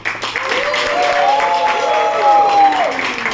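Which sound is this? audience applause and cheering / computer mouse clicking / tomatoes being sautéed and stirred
audience applause and cheering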